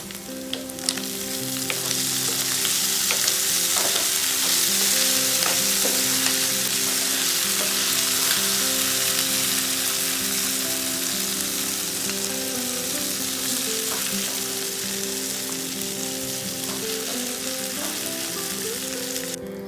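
Prawns fry in hot oil for Kerala-style roast, a loud, dense, unbroken sizzle close by with occasional stirring, no voices over it.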